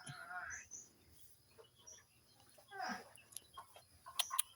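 Chickens cluck and call in scattered short bursts at a faint, distant level, with someone speaking Thai over them.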